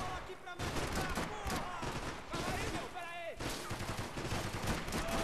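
Rapid gunfire in the shooter game Max Payne 3, bursts of shots and impacts crackling throughout under a voice talking.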